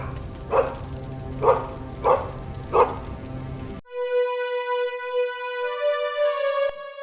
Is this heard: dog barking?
yes